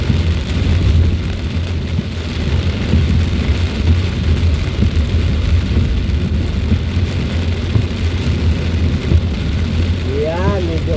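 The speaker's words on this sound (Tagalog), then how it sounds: "medyo humina konti ang ulan guys" Heavy typhoon rain drums on a car during a road trip, a loud steady wash over the low engine and road rumble, with a few faint clunks and a short sweep near the end.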